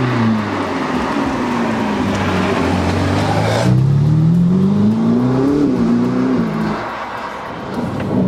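A Ferrari SF90 Stradale accelerates hard, its engine note climbing loud and close through several gears with a brief shift break, then easing off near the end; no talking over it.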